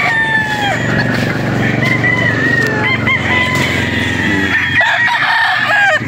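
Roosters crow loudly again and again over a dense chorus of clucking hens in the pens of a farm in Padre Garcia, Batangas, with the birds calling over one another close by.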